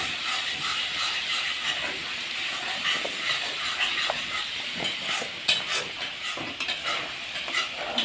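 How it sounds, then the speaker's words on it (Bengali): Chopped bottle gourd is stirred with chicken skin in a hot pan for a Bengali curry, a continuous sizzle and hiss under scraping spatula strokes and light clinks, steady and close, with no voices. "লাউগুলো দিয়ে আমরা এখন ভালোভাবে এটা নেড়ে নেব।"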